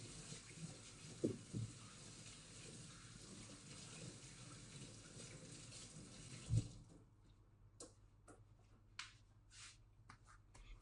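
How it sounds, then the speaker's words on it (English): Hands are washed under a running tap in a kitchen, a steady close rush of water for several seconds that stops, followed by a few soft clicks and handling sounds. "just quickly wash my hands again"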